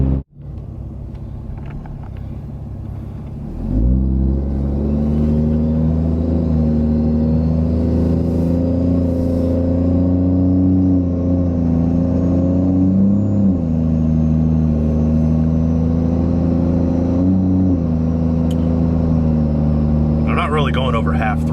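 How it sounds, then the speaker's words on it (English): Ram 2500 pickup truck engine, fitted with a 4.30 gear swap, pulling over half throttle: a loud, steady in-cab drone that swells after a few seconds and holds with shifting harmonics, with someone talking over it. "Going over half throttle."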